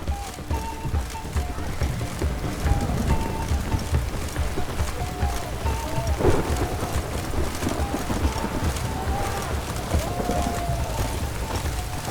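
Steady rain falls in The Witcher 3 video game, a continuous dense patter with horse hooves clip-clopping through it and faint tonal sounds drifting over the top.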